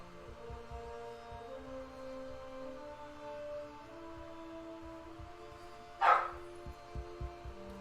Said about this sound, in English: So that's not my dog that's barking